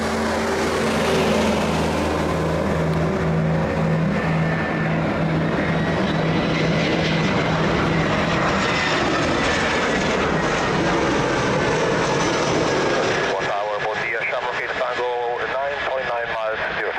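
Fixed-wing airplane engine roaring steadily and loudly at Lisbon Airport, sustained for the whole stretch with a slow drone and a shift in tone near the end, while radio talk plays over it.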